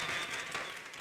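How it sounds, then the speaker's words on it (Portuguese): A brief burst of audience applause for a teacher at a history lecture, a dense wash of clapping lasting about a second. "eu gostaria de novo de receber uma salva de palmas"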